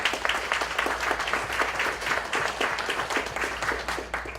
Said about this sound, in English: Can everyone give Tom a round of applause